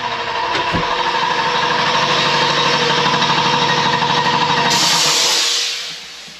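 A heavy car's engine runs loud and close with a steady, rattling idle, then shuts off and fades to quiet near the end, with no one talking.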